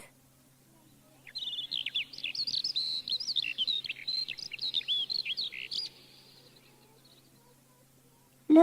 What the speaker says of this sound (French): l'alouette,